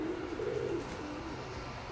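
A domestic pigeon coos in a single low, wavering call close by over steady background noise, trailing off into soft ambient sound.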